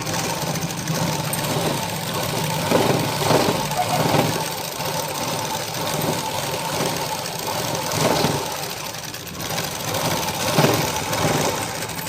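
A sewing machine stitches a blouse, running as a continuous motor hum with a rhythmic needle chatter for the whole stretch, while someone talks over it.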